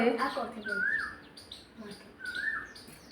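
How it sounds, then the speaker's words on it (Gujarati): An Asian koel calls twice with rising, whistled notes, spaced about a second and a half apart, over faint background noise outdoors. "જો કોયલ બોલે તો મસ્ત એનું કોયલ બોલે"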